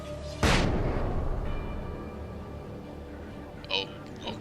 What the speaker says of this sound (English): Flashbang grenades.